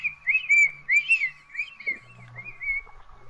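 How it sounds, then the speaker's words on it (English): A whistling taunt in the Prop Hunt game: a series of short, bright, warbling whistle phrases over a faint steady tone, with a little low background noise. "He got whistling."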